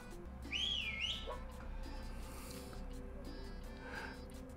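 A single loud, rising and falling whistle sounds for about a second near the start over steady background hum, followed by fainter noises.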